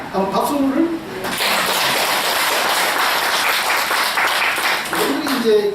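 A burst of lecture audience applause, steady clapping for several seconds, with a voice speaking briefly in Korean before and after it.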